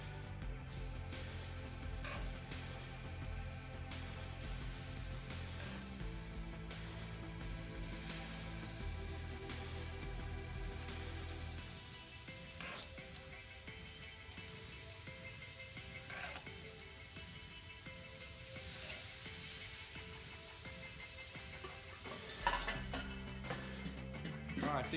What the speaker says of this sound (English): still sizzling. Time to flip.